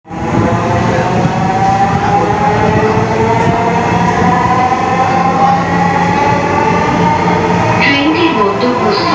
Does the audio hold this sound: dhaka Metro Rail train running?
yes